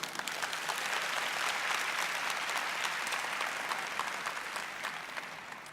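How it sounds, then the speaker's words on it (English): Sustained applause from a large corporate audience welcoming a Thai Bev team at a 60-year celebration event, steady and dense throughout, tapering slightly at the end. "I really want to welcome you with a loud round of applause"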